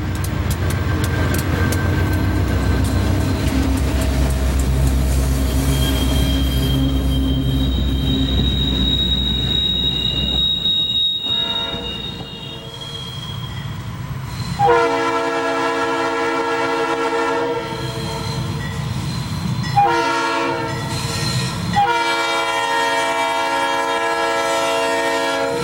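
A southbound Conrail freight train rolls past on the Monongahela Railway, a loud continuous rumble of wheels and cars with sustained high wheel squeal and horn-like tones, staying close and steady throughout.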